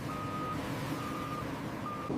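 A massive military truck reverses onto a landing craft, its backup alarm giving three steady beeps evenly spaced over a constant engine rumble.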